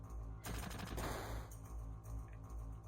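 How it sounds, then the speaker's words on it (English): Rapid machine-gun bursts from the game Final Fantasy 7, with one dense volley standing out over a steady low game hum and quieter rattles around it. "Machine gun."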